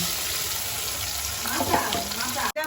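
Onion frying in a pan sizzles in a steady, close hiss for a few seconds, with a brief stir or clatter toward the end and a sudden cutoff.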